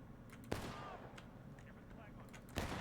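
Gunfire in the Civil War era video game War of Brothers, with two sharp shots standing out over a steady din of distant battlefield fire and faint voices.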